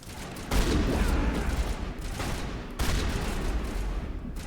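Shotgun blasts in the video game Mass Effect, two loud booming bursts a couple of seconds apart, each trailing off into rumbling combat noise.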